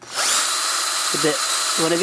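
A power drill fitted with a 3/16 bit bores out a rivet while swapping wheels on a Datsun 620 truck: a sharp start, a steady high whine, then two short bursts of higher-pitched grinding as the bit bites metal.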